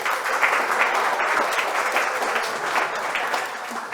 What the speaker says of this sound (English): Go ahead and give a round of applause.